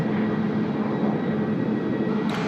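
A jet departing Tokyo Haneda Airport off runway 16 right gives a loud, steady engine roar with a low rumble, holding close and even for a couple of seconds.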